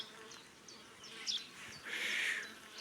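Bees swarm near overturned beehives at an apiary, a thin buzzing drone with a few brief passes close by and a louder, sustained hum swelling near the end.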